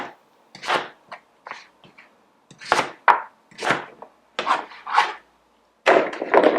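Knife chopping butternut squash into chunky pieces on a wooden board, a series of close, crisp cuts in irregular bursts with short pauses between strokes.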